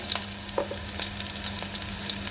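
Green chilies, curry leaves and asafoetida frying in hot oil in a pan for upma, a close, steady sizzle with faint crackles and a stirring scrape, no talking.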